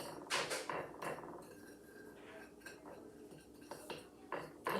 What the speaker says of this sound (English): I'm just going to use this fork to mix up all my ingredients